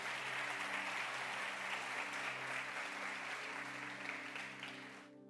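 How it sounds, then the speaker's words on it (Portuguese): A church congregation applauds, a steady dense wash of clapping over a low sustained keyboard or organ tone, fading at the very end. "Você pode aplaudir a Jesus por isso?"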